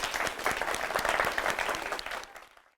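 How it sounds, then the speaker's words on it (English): Audience applauding after a classroom arts exercise, a short burst of dense, steady clapping that fades out within about three seconds. "Huge round of applause"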